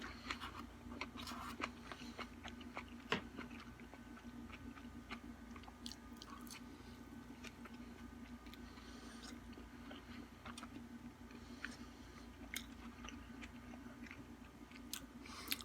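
Someone chews oily, salty truffle fries with parsley, a faint, close, steady run of soft crunching and squishing over a low background hum.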